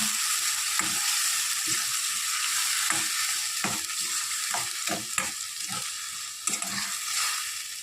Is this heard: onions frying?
yes